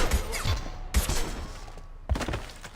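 Video game gunfire in Mass Effect 2, a few sharp, loud bursts and thuds in quick succession with a dense ringing tail, heard close over a busy game soundscape.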